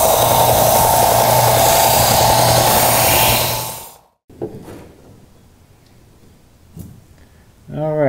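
Power sander running loud and steady for about four seconds on a wooden floor support for a Whitehall wherry rowing boat, then cutting off, leaving quiet workshop handling noises.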